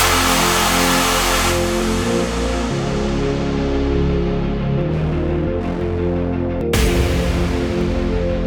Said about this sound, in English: Let's grab a exhaust from the new sample pack